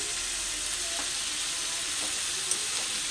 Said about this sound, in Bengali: ভালো করে একটু আবার নাড়াচাড়া করে নেব এখন জলের পরিবর্তে দুধটা দেবো